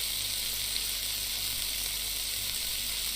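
Oil sizzling around salmon in a pan in the Cooking Simulator video game, a constant even hiss with no breaks, alone and without talk.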